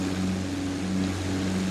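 Propeller engine of a De Havilland Chipmunk running at high RPM, a loud, steady droning hum heard from close by with no talk.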